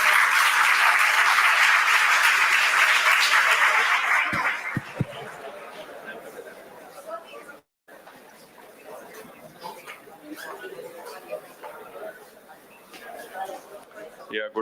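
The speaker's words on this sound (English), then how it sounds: "let us invite Mr. Kalyan onto stage with a huge round of applause" A big round of applause greets a NASSCOM speaker invited onto the main stage at a developer conference, loud and dense for about four seconds before fading into scattered claps and low audience murmur.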